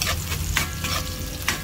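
Onions sauté in a pan for carbonara with a dense, close sizzle and a few quick stirring scrapes across a short moment.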